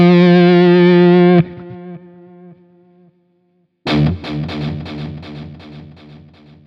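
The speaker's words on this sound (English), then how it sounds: "Now you can hear the external whammy effect." Electric guitar through a Kemper Profiler with an external whammy pitch effect: a loud sustained distorted chord that drops away and rings out, a brief silence, then a new burst of rapid, heavily effected repeated notes, close and without voices.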